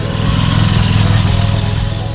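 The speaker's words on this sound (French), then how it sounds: "Niveau moteur, c'est pas ce qu'il y a de plus authentique comme V-Twin américain, mais c'est pas pour ça que c'est pas agréable." A 2017 Harley-Davidson Street Rod 750 V-Twin engine runs with a loud, close, steady throb, its rumbling idle pulsing evenly with no talk over it.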